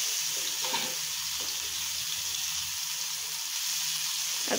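Cumin seeds and curry leaves sizzle and crackle in hot oil in a home kitchen pan, a steady close frying hiss with a few stirring sounds.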